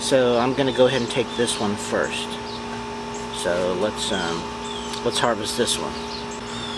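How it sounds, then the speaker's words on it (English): A neighbor's air conditioner runs outdoors as a steady, low tonal hum with a constant drone that persists under someone talking in the foreground. "That's my neighbor's air conditioner."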